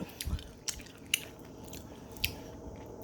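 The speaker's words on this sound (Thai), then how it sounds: "หอยแมลงภู่มากินด้วยกันนะ" Close, quiet chewing and biting of mussels, with a few sharp crunchy bites standing out over soft, wet mastication and no talking.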